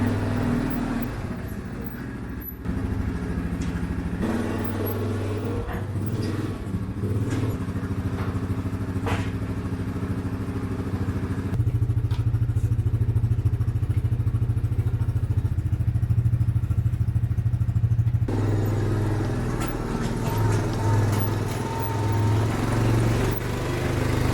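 Vehicle pulling a manure wagon in snowy conditions on a horse farm, a steady low engine drone with rattling and clatter, close and continuous, with the engine note shifting louder partway through, no talking.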